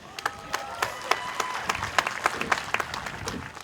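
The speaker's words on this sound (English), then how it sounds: "Let's give the band and the choir singers another big round of applause" Audience applause at a high school graduation, a dense, steady crowd clapping with sharp individual claps standing out throughout, moderately loud and sustained with no talk over it.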